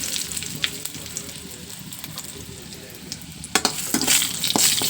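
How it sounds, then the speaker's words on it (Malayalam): Mustard seeds, dried chillies and curry leaves crackle in hot oil with a steady close sizzle, then louder spitting bursts and a few metallic stirring clinks near the end. "കടുക് ചേർത്തിട്ടായിരിക്കും നമുക്ക് ഉണക്കമുളകും കറിവേപ്പിലും അതും ഇട്ട് കൊടുക്കാം"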